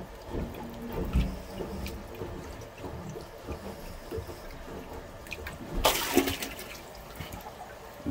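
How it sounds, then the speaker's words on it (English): A toilet bowl refilling after plunging an overflowing clog, a continuous low gurgling and trickling wash of water with a louder rushing surge partway through, fairly faint and close. "Let's let that toilet fill up and we'll test it again."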